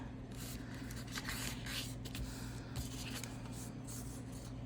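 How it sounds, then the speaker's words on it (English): A 4x6 paper card is folded in half and creased by hand, giving faint, close rubbing and scraping over a steady low hum, with a few soft papery swipes and no talking. "fold it in half."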